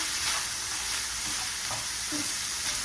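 Onion and green scallions frying in a hot pan, giving a steady loud sizzle throughout with soft stirring scrapes now and then.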